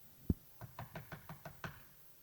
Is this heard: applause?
no